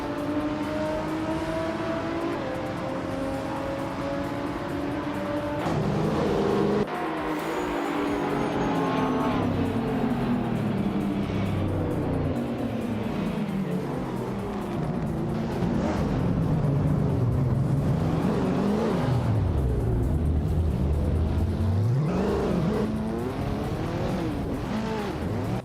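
A 2020 Toyota Supra GR and rival race cars in a racing video game, engines droning and revving continuously, pitch rising and falling through gear changes and passing cars, loud and steady throughout.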